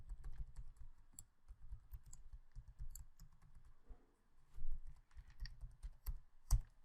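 A username is typed on a computer keyboard in quick, close, fairly soft bursts of key clicks, with brief pauses between the bursts and one sharper keystroke near the end.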